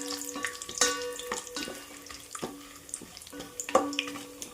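Three small bay leaves frying in oil for chicken biryani make a quiet, gentle sizzle, punctuated by several light metallic clinks of a spoon against the pan.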